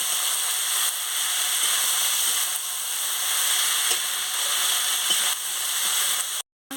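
Potatoes stirred in a pan with mustard and green chilli paste for a Bengali kudli potato chorchori give off a steady, close hiss of frying with faint scraping, running continuously and then cutting out briefly near the end.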